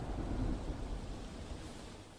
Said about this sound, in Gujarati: ગીર સોમનાથ જિલ્લામાં અવિરત વરસાદ પડી રહ્યો છે।